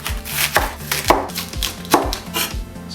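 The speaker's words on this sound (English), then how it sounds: "For the green onions, I'm going to cut them into small pieces, maybe about 2-3 inches long," A knife chops green onions into short pieces on a cutting board, landing quick, evenly spaced thuds, about eight close, crisp strikes with no talking.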